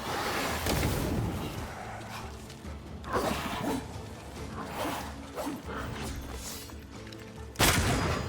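Gunshots ring out in Banishers: Ghosts of New Eden, several sharp cracks scattered over a busy game ambience, with a loud report near the end.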